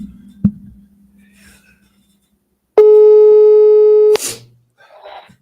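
On an outgoing phone call, a single steady electronic ringback tone sounds for about a second and a half after a click and some quiet line noise, then cuts off sharply.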